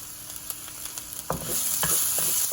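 Chicken pieces frying in oil in a pan for bourbon chicken, a close sizzle with a couple of sharp stirring knocks, swelling into a louder, steady hiss partway through, with no talking.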